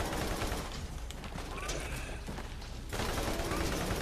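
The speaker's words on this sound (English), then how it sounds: "we'll have to start speaking up to be heard over all the bullet fire" Rapid automatic gunfire in the Borderlands video game, a high fire-rate weapon rattling continuously and fairly loud, with a short dip in intensity before it resumes, under occasional voice.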